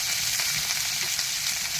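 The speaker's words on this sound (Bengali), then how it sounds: "ভাজিয়ে নেই" Ridge gourd and potato fry in hot oil with a steady, close crackling sizzle that holds without a break.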